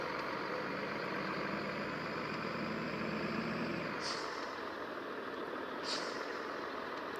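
A Scania 113H truck engine in Grand Truck Simulator drones with a steady low rumble, joined by faint air-brake-like hisses toward the end, under a continuous game soundscape.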